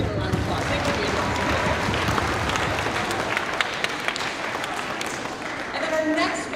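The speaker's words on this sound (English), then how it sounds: "let's give him a round of applause." A school spring concert audience applauds, dense clapping and crowd noise holding steady throughout, with a voice faintly heard under it.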